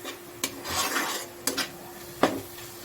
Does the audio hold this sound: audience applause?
no